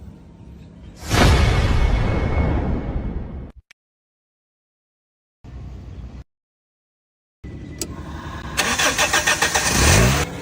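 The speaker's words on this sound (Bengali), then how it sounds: "ইঞ্জিলটা স্টার্ট দে" A car engine is started several times: a loud cranking catch and run, silence, a brief second burst, then another start that revs up with rattling, all close by and without speech.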